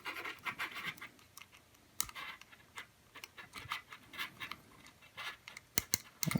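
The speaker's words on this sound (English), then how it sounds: "Got that zip tie. Start tightening this one down a little bit." A nylon zip tie ratchets tight with rapid clicking bursts, close and fairly quiet, while mounting LED lights on an F450 quadcopter frame.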